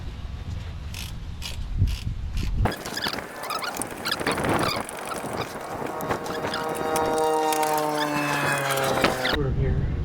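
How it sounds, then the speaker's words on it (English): A torque wrench tightens a bolt to 37 foot-pounds on a Gen 3 Mitsubishi Montero, giving loud, close ratcheting and clicking with squeaky metallic tones that swell toward the end. "Okay, so I got the torque wrench set up for 37 foot-pounds."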